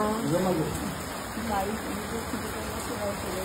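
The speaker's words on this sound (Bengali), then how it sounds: "আবার শুরু হয়েছে বৃষ্টি" Steady rain hisses continuously throughout at the Tripura Sundari temple, with faint murmuring voices in the background.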